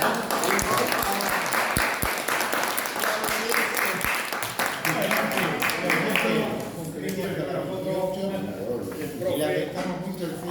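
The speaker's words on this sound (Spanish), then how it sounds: "gran aplauso" Applause from the audience at a charity talk about San Martín, dense continuous clapping mixed with a loud voice speaking over it, staying full and close throughout.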